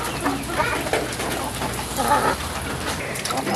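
Chickens clucking in a flooded coop during heavy rain, steady rain noise throughout with the birds' calls mixed in at moderate distance.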